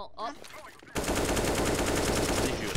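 Rapid bursts of automatic gunfire in Counter-Strike: Global Offensive, loud and sustained after a brief stretch of quieter game sounds, with a faint voice at the start.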